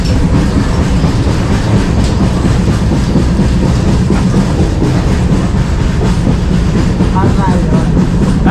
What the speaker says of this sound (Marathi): ट्रेन स्लो झाल्या.